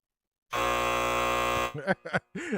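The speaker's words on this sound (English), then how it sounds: "I gotta give myself the buzzer." A loud, steady electronic buzzer blares for just over a second as a game-show style penalty effect on a Cleveland Browns football talk show, then cuts off abruptly and brief talking follows.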